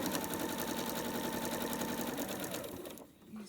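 A sewing machine runs steadily, stitching down a fabric pleat on a biscuit quilt, its fast even chatter continuing for about three seconds before easing off near the end.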